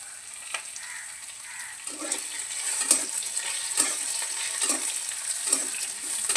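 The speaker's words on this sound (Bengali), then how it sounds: "লাল লাল করে ভাজা হয়ে গেলে এটা আমি নামিয়ে নেব।" Cut pieces of fish frying in a wok that is slightly burnt, giving a continuous bright sizzle that grows louder midway, with soft periodic scrapes of stirring underneath, close up and without talking.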